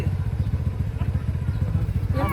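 A motorbike idles and rolls nearby with a steady low engine rumble and rhythmic pulsing, close and fairly loud, with a brief chirp near the end.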